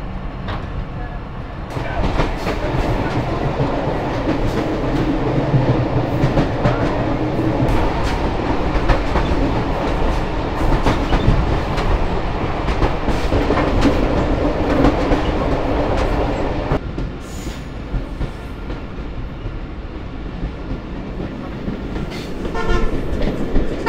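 The Rajshahi to Rohanpur commuter train in Bangladesh rolls along the rails with a loud, continuous rumble and rhythmic clatter, easing slightly after about seventeen seconds before building again.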